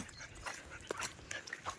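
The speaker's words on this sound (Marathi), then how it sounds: "दोन कुत्रे पण आहेत" Farm dogs, a German Shepherd and a Labrador, at a mango orchard give a few short, close barks and yelps in a quick irregular burst, moderately loud with no talk.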